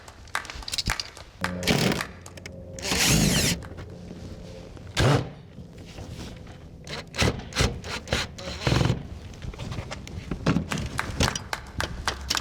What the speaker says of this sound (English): remove the vent.